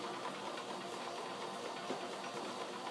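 A sewing machine runs steadily at a slow pace, stitching a 5/8 inch seam down the side of a t-shirt drawstring bag. The motor hums in a continuous, close, even whir with no talking.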